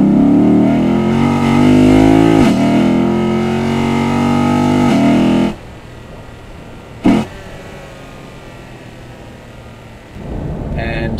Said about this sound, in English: So this is intake only now.